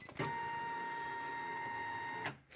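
A Janome embroidery machine sews the first stitch of a crosshair for a quilt-in-the-hoop applique, giving a steady close mechanical whir with a sustained tone that stops abruptly near the end.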